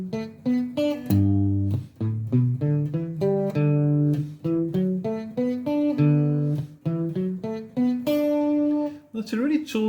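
Guitar plays a pentatonic riff in D, a bright repeating run of plucked notes, close and clear with no talking.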